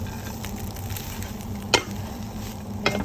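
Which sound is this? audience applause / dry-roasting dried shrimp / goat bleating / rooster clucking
dry-roasting dried shrimp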